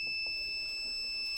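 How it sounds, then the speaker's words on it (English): Heat press timer on a vinyl transfer setup beeping: steady high-pitched electronic tones hold throughout at moderate level, with faint handling noise underneath. "hit enter to stop the beeping"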